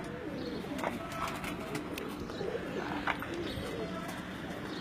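Salare teddy pigeons coo softly in a low, throaty murmur over a busy background hum, with a few faint chirps mixed in.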